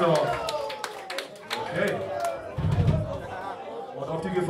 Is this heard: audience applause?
yes